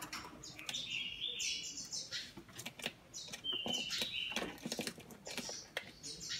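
A young thanh truyền songbird, a fledgling with yellow gape edges, gives thin, high chirps in short bursts, close by and fairly faint amid light rustling and handling noises.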